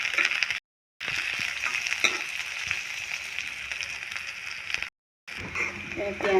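Chopped onion and garlic fry in a pan while being stirred for a lai xaak khar dish, making a steady, moderate sizzle with light scraping, broken by two brief silent gaps.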